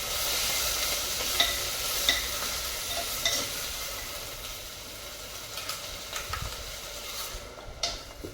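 Methi pithla, a gram-flour dish with fenugreek greens, garlic and chilli, sizzles steadily in a clay pot while a spoon scrapes and stirs in a few soft clicks, close and moderately quiet throughout.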